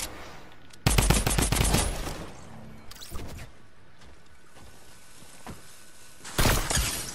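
Sniper rifle fire in a shooter video game: several sharp, loud cracks in quick bursts, with a trailing rattle between them and one last shot near the end, over a low hum of game ambience.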